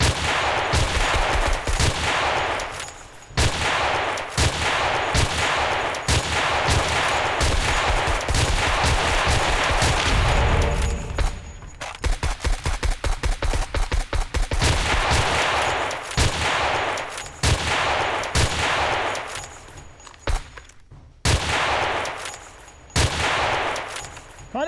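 Rapid bursts of gunfire blast at zombies in the game 7 Days to Die, loud close shots in quick volleys with a tight machine-gun-like stretch in the middle and brief pauses between strings of fire.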